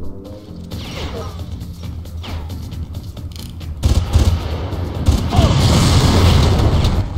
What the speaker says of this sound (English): These rocket launchers bother me.